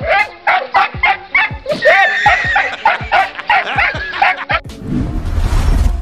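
A dog barks repeatedly at a cat in a rapid, close string of sharp barks and yips, ending in a burst of rustling noise.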